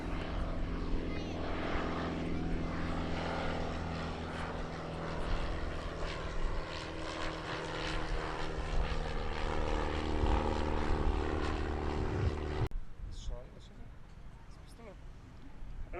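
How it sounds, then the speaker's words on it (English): A Piper Cub light aircraft flown from the back seat takes off at an airshow, its propeller engine a loud, steady drone that drops away sharply near the end, with a voice talking over it. "little cub getting airborne"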